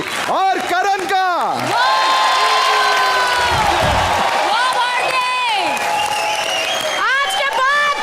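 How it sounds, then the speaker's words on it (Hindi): A studio audience on a Hindi comedy show applauds and cheers to welcome guests, a loud crowd roar of clapping and whoops layered with shouting voices and bright swooping music tones throughout. "जोरदार तालियों के साथ स्वागत कीजिए भारती और करण का।"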